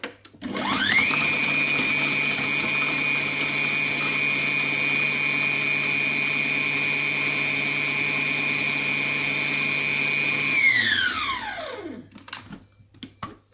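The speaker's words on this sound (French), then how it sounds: "Donc je vais lancer le programme haché." A Compact Cook Pro multicooker whirs steadily on its chop program with chives in the bowl, a loud even motor whine holding for about ten seconds before winding down to a stop, with a few clicks after.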